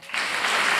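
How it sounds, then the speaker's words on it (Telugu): Congregation in a church service clapping hands together, a dense burst of applause starting abruptly and holding steady for under a second, close and loud. "మీ ఒడిలో బైబిల్ పెట్టుకొని ఒకసారి చప్పట్లు కొడతారా?"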